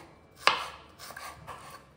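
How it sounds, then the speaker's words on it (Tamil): A knife chops small onions finely on a board: one sharp, distinct cut followed by a couple of softer strokes, close and otherwise quiet. "சின்ன வெங்காயத்தையும் அப்படி நைஸாக நறுக்கிக்கணும்"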